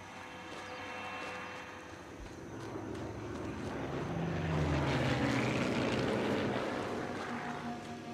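An overhead propeller aircraft in Sniper Elite 3 hums with a rough engine drone that swells louder toward the middle and stays prominent throughout, with no talking over it.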